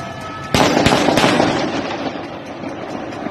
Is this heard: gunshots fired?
yes